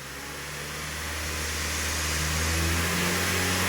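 A car engine revs up steadily to about 2500 rpm during load testing, a close mid-pitched hum that rises in pitch and loudness, then holds, with no talk over it.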